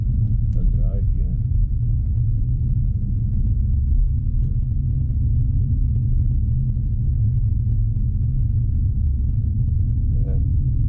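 Inside a BMW i4 M50 on the move, a steady low road rumble fills the cabin while someone talks over it throughout.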